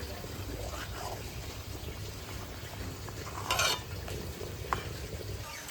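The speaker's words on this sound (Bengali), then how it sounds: "এটাকে নাড়বেন না হলে কিন্তু তলায় লেগে যেতে পারে" A spoon stirs milk thickened with cornflour and cardamom powder in a pot for coconut ice cream, a steady close scraping and sloshing with a louder brief clatter of the utensil against the pot partway through.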